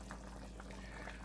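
Oxtail stew liquid simmering in a pot as it cooks down, a faint, continuous low bubbling with soft scattered pops, heard close and without voices.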